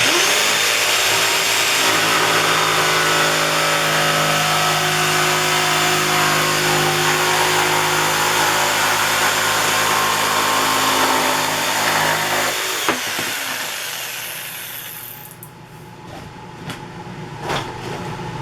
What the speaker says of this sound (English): So we'll use a jigsaw to cut it out.